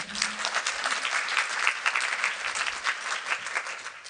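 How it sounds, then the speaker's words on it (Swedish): Steady audience applause at a public health lecture in Stockholm, a dense even patter of many hands clapping together at close range for about four seconds without talk. "En applåd."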